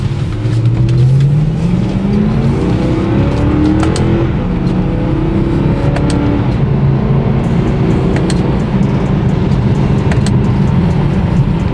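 A BMW M3 drives steadily with a continuous, close engine drone that rises and falls in pitch as it accelerates and shifts, with no talking over it.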